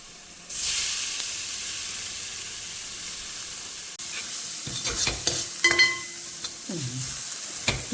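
Grated coconut drops into a hot pan with a burst of sizzling, followed by scraping and clinking as a spoon stirs it, close and clear.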